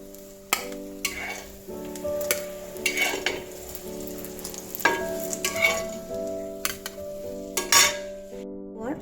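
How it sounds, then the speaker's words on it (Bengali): An egg and gram flour roll fries in hot oil, sizzling steadily up close while a metal utensil repeatedly scrapes and taps against the pan in irregular bursts. "এই ডিমটাও রোলের মতো করে ভেজে নেব"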